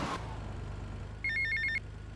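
A telephone rings in GTA Vice City, one short burst of bright electronic trilling heard clearly over a low, steady background hum.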